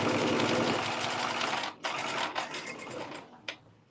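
A sewing machine runs steadily and loudly while stitching binding onto fabric, then stops and restarts in shorter bursts as it reverse stitches, ending with a few brief clicks and pauses.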